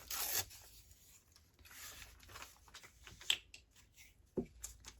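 A piece of book page is ripped by hand for collage work, a quiet, close paper tear with a few short scratchy rips and rustles in an otherwise hushed room.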